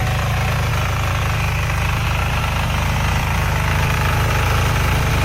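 A small soil aeration machine used on a farm runs with a steady, loud motor drone and a rough, rattling vibration that holds constant throughout.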